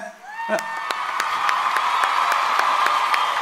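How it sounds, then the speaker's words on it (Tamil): Award-show audience clapping in a steady, rhythmic unison beat, with a sustained cheering crowd and whoops underneath, loud and close throughout. "அவருக்கு ஒரு பெரிய கைத்தட்டில் கொடுங்க"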